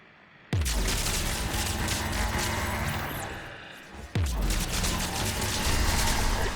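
Gunfire in Mass Effect 3 aimed at targets binding a circular structure, two sharp onsets each followed by dense rattling shots and crackling impacts, loud and close, with no talk.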